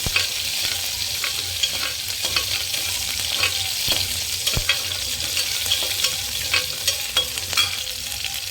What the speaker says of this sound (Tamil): வெங்காயமும் கருவேப்பிலையும் எடுத்துக்கலாம் வந்து நல்லா வதக்கிட்டுக்கலாம்